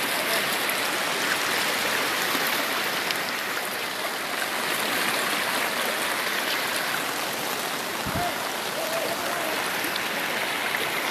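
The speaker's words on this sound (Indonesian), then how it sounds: "rupanya arusnya ini deras sekali." Strong flood water from a river in Moilong rushes past flooded homes, a dense, loud, continuous roar of current filling the whole clip with no talking.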